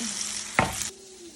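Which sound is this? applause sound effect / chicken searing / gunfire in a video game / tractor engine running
chicken searing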